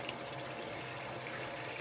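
Water runs steadily into a van's fresh water tank through an opening on top, a continuous broadband splashing rush that stays even and close for its whole length, with no talking.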